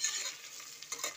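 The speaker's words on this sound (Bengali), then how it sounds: "আমাদের পেঁয়াজগুলো ভালো করে ভাজা হয়ে গেছে।" Onions fry in a pan with a brief, soft, steady sizzle and a couple of faint stirring scrapes.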